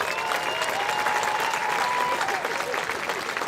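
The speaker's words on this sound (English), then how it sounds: "please give another round of applause to all of our Hall of Fame inductees for 2017" A large audience at a high school Hall of Fame induction ceremony applauds inductees, a dense, sustained wash of clapping that holds steady throughout with a faint crowd murmur under it.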